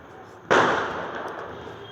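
One loud, sharp firecracker bang bursts outdoors, its crackling echo slowly dying away over more than a second against a faint background hum.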